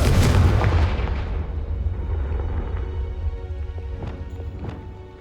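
Confringo fire spell blasting in the Hogwarts Legacy game, a loud booming burst at the start that rumbles and fades over several seconds, followed by a few faint crackling impacts in the tail.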